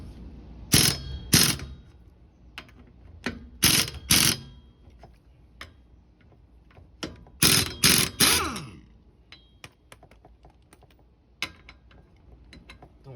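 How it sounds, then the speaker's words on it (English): Hand tools loosen the lug nuts on a rear wheel of a first-generation Scion xB, giving loud, close bursts of ratcheting clicks in separate spurts with quieter gaps between them. "First things first, loosen up these lugs."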